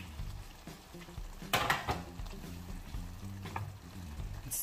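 Pasta being stirred in a Ninja Foodi Possible Pan, giving a soft scrape and a brief sharp clatter of utensil against the pan, with a faint sizzle and low background hum.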